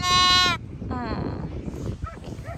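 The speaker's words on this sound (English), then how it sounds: "The sheep are coming." A sheep gives a loud, harmonic bleat close by, then a fainter second bleat follows, out on an equestrian farm with a person speaking briefly afterward.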